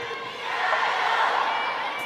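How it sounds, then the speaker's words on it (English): Spectators at a women's table tennis match in Chongqing build into a noisy, continuous crowd roar that swells slightly and holds steady. "The crowd's starting to get noisy again."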